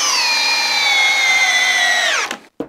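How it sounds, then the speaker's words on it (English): A Makita drill drives a 6-inch timber lock screw into wood, a loud, steady, high whine for about two seconds before the motor winds down sharply and stops, followed by a brief knock. "Now the Makita, 6-inch timber lock."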